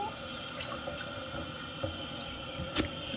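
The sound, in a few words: toilet tank refilling with water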